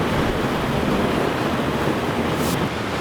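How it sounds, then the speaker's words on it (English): A river runs through a chain of small swimming pools near a large waterfall in Sri Lanka, giving a steady, broad rushing wash of water that holds at an even loudness throughout, with no voices. "The river just keeps on going with these little pools."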